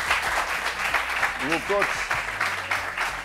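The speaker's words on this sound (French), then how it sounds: "Est-ce qu'on peut applaudir" Audience applause at a French sports-themed talk show, a steady wash of clapping that runs the full length, with a host speaking over it and a brief tonal voice partway through.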